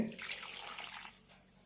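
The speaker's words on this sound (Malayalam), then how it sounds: "അരക്കപ്പ് വെള്ളം കൂടി ഒഴിക്കുന്നുണ്ട്" Half a cup of water pours into a pan already holding coconut milk, a brief soft splashing stream that trails off quietly within two seconds.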